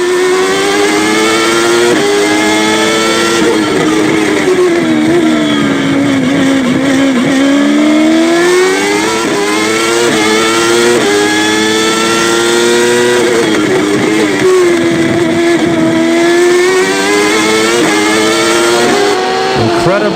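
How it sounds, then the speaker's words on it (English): A 1994 Formula 1 car with a Ford V8 Zetec engine screams loudly through gear changes and rising, falling revs at the Spanish Grand Prix in Barcelona, with a commentator talking over it throughout. "incredibly successful Ford V8 Z-Tech engine powering JJ Leto"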